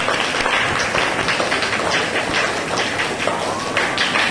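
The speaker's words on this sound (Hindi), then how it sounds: "तालियां बजाते रहो।" A group of listeners at a motivational talk on good behaviour claps continuously, a dense, fairly close patter of hands that stays steady throughout.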